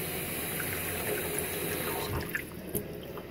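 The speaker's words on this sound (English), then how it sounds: "Let's see how much water it holds." Tap water pours steadily into a measuring cup in a kitchen, a continuous close splashing hiss with a few small bright plinks near the end.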